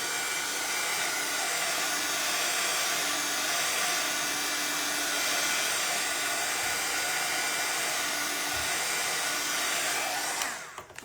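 A hair dryer blows steadily at close range, drying paint on a handmade patriotic door hanger, a loud continuous whooshing hum that holds for about ten seconds before switching off abruptly at the end.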